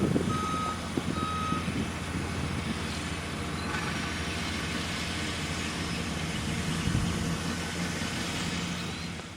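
A tractor backs up with a steady series of loud reversing beeps over a running diesel engine, close by and continuous throughout with no speech.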